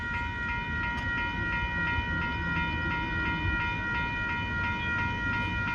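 A long northbound Union Pacific intermodal freight train rolls past at Dittmar Road in Austin, Texas, its wheels rumbling and clattering steadily and close by with a faint metallic ring and no talk.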